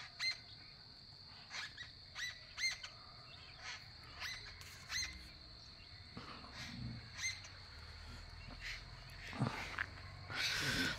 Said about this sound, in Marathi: हो हो, पक्षी बघा.